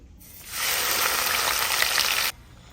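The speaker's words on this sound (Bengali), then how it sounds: "আমি চুলায় তেল গরম করে নিয়েছি, দিব একটা তেজপাতা, আর এইখানে দিব পেঁয়াজ বাটা।" Onion paste and a bay leaf hit hot oil in a pan with a sudden loud sizzle that holds steady and bright for about two seconds, then cuts off abruptly.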